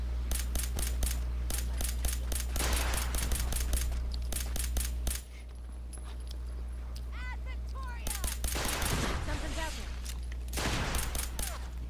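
Rapid bursts of gunfire in Fallout 4 crackle in loud repeated volleys, pausing briefly midway before resuming, with voices talking over the shooting.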